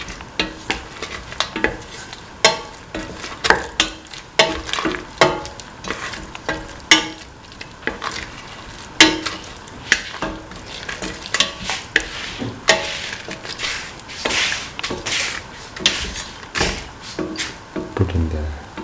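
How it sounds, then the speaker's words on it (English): Spoon stirring a split chickpea and bell pepper stew in a pan, steady scraping and clinking strokes over a soft sizzle, close and continuous, with a voice speaking at times. "Mix thoroughly."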